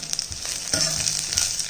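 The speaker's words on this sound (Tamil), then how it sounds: "இதை ஒரு வதக்கிடுவோம்." Oil sizzles steadily in a hot pan while green chillies and cumin are stirred, with a few scraping clatters of a spoon against the pan.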